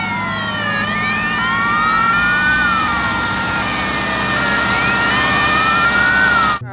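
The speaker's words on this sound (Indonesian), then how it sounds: "di sini ada truk pemadam kebakaran" A toy fire truck plays a loud electronic wailing siren, its pitch sweeping up and down continuously for several seconds close to the microphone, then cutting off abruptly.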